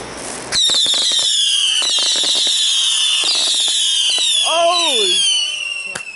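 Fireworks, two lit at once, bursting and crackling loudly nearby for several seconds in a dense, continuous barrage with a few sharp pops, while people shout and talk throughout.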